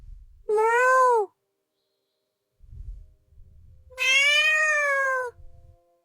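Two drawn-out cat meows with clear rising-falling tones, each about a second long and close, separated by quiet gaps with faint low rustling.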